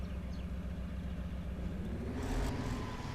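A MAZ truck engine in the Spintires game runs with a loud, steady low throb that swells slightly as it revs near the end, with no talk.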